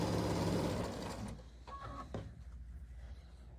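A domestic sewing machine chain piecing quilt blocks runs at a steady motor whir, then stops, leaving faint handling clicks and rustles.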